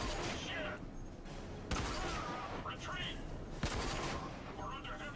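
AK rifle gunfire in a video game, three sharp bursts of shots spaced a couple of seconds apart over a busy game soundscape, heard at a low level.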